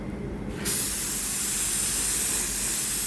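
A paint spray gun lays glossy paint onto a car body during a repaint, a steady, loud airy hiss that starts with a sudden burst and holds continuously, close by.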